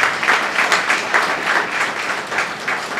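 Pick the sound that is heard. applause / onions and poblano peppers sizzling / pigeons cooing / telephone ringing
applause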